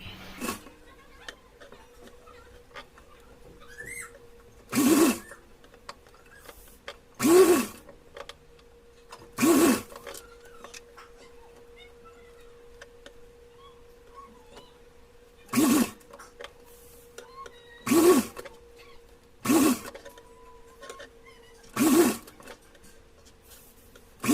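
Short bursts of a sewing machine stitching a folded hem on a small summer dress for a Laddu Gopal idol, about eight quick runs of rapid whirring separated by quiet pauses, close and alone.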